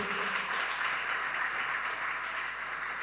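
A church congregation claps together during a sermon, a steady, moderately distant patter of many hands that holds evenly for a few seconds without talk.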